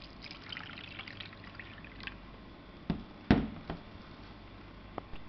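Two cups of water poured into a pan for mushroom soup, a light trickle at first, then a few sharper splashes and drips near the end.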